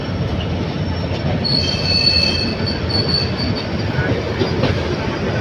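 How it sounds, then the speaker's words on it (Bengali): A train rolls through a railway junction, its wheels squealing in high sustained tones over a loud, steady rumble of rolling stock and clattering rails. "ওই পাশ দিয়ে আরেকটি ট্রেন আসছে"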